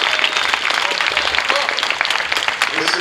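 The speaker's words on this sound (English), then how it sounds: "Give yourselves an applause." Fans at a UFC fight-week Q&A in Dublin break into loud crowd applause, with sharp, dense clapping rising and falling amid some voices in the room.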